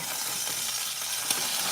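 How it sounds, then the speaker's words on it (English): An egg fries in a pan for pizza topping, giving a steady bright sizzle and crackle that holds evenly throughout, close and moderately loud, with no talking. "I'm frying up an egg because I'm going to put the egg on top of the pizza"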